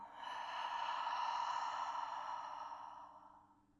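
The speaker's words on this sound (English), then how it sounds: "Exhale audibly out the mouth" One long, audible sigh-like exhale out the mouth during yoga breathing, close and steady, swelling gently and then tapering off into quiet.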